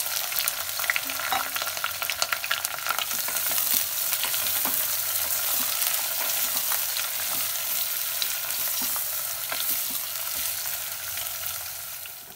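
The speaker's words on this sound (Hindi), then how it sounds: "तो प्याज इसमें डाल देंगे और इसे भून लेना है प्याज को।" Chopped onions fry in a pan for jackfruit curry, giving a steady, close crackling sizzle with light stirring scrapes that continues evenly throughout without any talking.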